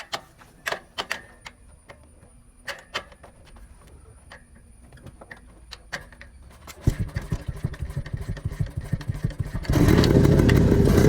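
A 1983 Yezdi Roadking motorcycle engine kicks over with scattered ticking strikes, then catches into a rapid, loud two-stroke putter that grows fuller and louder near the end, close and alone.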